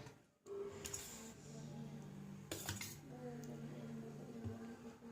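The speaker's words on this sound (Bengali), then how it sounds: "তো প্লেটে দিই চাটনিটা।" Chutney spooned onto a plate alongside khichuri, fried brinjal and papad, with a few sharp cutlery clinks against the dish over a steady low background hum, fairly close by.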